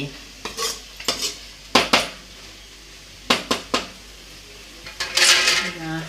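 Metal utensil clinks and stirring scrapes in a pan as fish fry masala is mixed, coming in scattered close knocks with a brief soft sizzle near the end.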